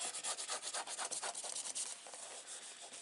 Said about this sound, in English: Make sure you rub and get it over, all stuck down into the corners.